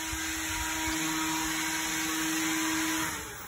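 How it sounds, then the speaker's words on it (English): Steady mechanical whine of power tools running at a power plant on a guided tour near Mayapan ruins, a continuous loud hum holding for about three seconds before easing off. "Oh, that sounds like power tools."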